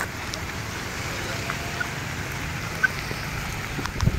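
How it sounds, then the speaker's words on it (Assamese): Heavy rain pours down in front of a stadium, a dense, continuous hiss of drops beating on surfaces, close and steady, with faint background noise and no clear talk. "ষ্টেডিয়ামৰ সন্মুখ এয়া ধাৰাসাৰ বৰষুণ"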